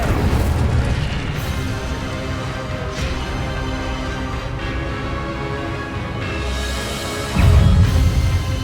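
Incendio fire spell blasts in Hogwarts Legacy, a sustained roaring, booming rush of flame with a louder burst near the end, dense and continuous with no talk.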